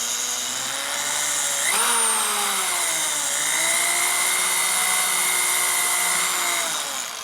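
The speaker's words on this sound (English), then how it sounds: "pushing down on that drill motor like that" An electric drill whines steadily up close during a Harley-Davidson Shovelhead engine rebuild, its motor pitch jumping briefly, then sagging and rising again as it labors.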